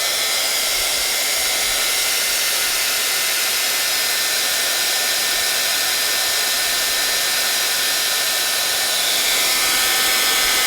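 Heat tool blows steadily while melting embossing powder, a loud, unbroken airy whoosh with a constant motor hum lasting the whole stretch, no other sounds present.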